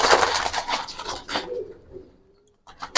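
Giribaz pigeons in a loft give off a dense, busy murmur of cooing and fluttering that fades into near quiet, with a brief rustle returning at the end.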